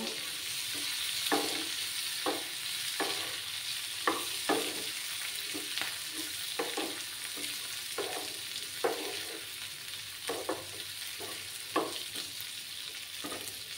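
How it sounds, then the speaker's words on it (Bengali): Potatoes fry with turmeric in a pan for a dhaba-style spiced potato dish, a steady soft sizzle broken by regular scraping stirs, with no voices. "একটু আমি ভেজে নিচ্ছি এটাকে"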